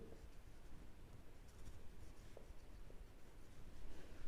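Pen scratching on paper while working through a maths problem, a soft continuous scribbling texture, close and faint, with no talking.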